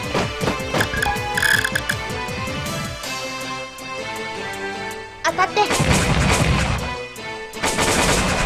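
Tank battle gunfire in the video game War of the Human Tanks ALTeR, loud rapid bursts of shots and crashing impacts with brief pauses and overlapping game sound.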